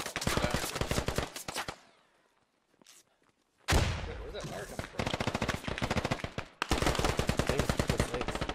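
Gunfire in the video game Squad, with rapid automatic bursts up close, a short lull broken by a single shot, then renewed heavy sustained firing.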